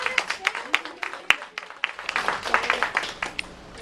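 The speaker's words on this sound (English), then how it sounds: "Round of applause" A small audience claps in scattered, uneven bursts for a few seconds, the individual claps distinct and close, fading near the end.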